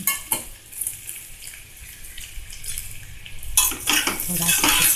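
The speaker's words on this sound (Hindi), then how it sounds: "अब हम ये जो पोहे जो मिक्स करके रखे थे वो हम अभी इसमें डाल दें" Flattened rice poha is tipped into a kadai with cooked potato and stirred, producing clattering scrapes of a spoon against metal over a soft sizzle, growing busier and louder toward the end.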